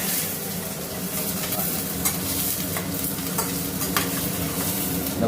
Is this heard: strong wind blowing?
no